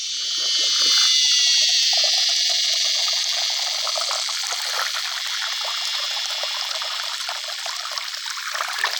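Plants are rinsed under running water outdoors on a rural farm plot, making a steady, close trickling and splashing hiss that continues throughout without a pause.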